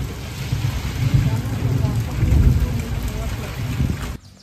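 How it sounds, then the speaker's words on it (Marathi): Heavy unseasonal rain pours down in Konkan, a dense, steady roar broken by low rolling rumbles of thunder, loud and close, before it cuts off abruptly near the end. "आता पाऊस नाही थांबला"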